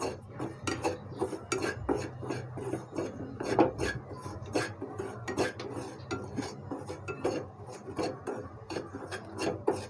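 A utensil rasps and scrapes repeatedly through dry semolina in a pan while it is stirred continuously, close and fairly loud, as an irregular series of rubbing strokes with no talking.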